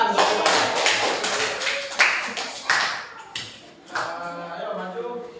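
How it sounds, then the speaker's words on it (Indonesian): Children clap in a classroom, a short burst of uneven, scattered hand claps with a few sharper individual slaps, close and fairly loud, fading toward the end. "Tepuk tangan."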